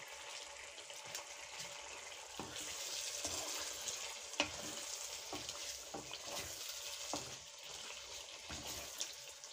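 Chicken malai sizzling and frying in a pan while being stirred, with steady crackling and a few clinks of a spoon against the pan. The sounds are moderately close and no one speaks.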